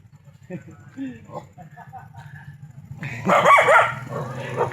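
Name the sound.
dog barking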